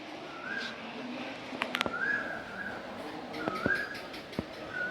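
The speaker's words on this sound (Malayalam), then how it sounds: "കുയിൽ കരയുന്നു കേട്ടോ നിങ്ങൾ." An Asian koel calls a few times in rising whistled notes at moderate distance, with sharp clicks and light background noise, no talking.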